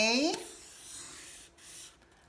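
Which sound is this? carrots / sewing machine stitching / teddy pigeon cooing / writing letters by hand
writing letters by hand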